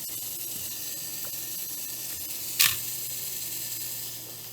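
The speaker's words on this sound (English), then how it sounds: "you hit the shutter button" A Nikon FG film camera's shutter fires once with a single sharp, bright mechanical click partway through, over a faint steady hiss of room tone with no talking.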